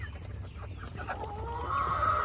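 Backyard chickens cluck and murmur around a feeder coop, several birds close by with overlapping calls and one rising, drawn-out squawk near the end over a low steady hum.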